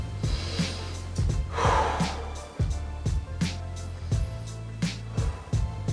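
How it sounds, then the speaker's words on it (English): Deep, slow breaths are drawn in and let out during a yoga session for low back pain. Each breath is audible and close, set against a steady background hum with faint rhythmic ticks. "Take your last 2 deep breaths."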